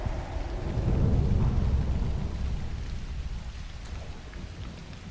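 Thunder rumbles over steady rain in The Last of Us, a loud, deep roll that swells in the first seconds and slowly fades while a broad hiss of rainfall continues throughout, with no talk.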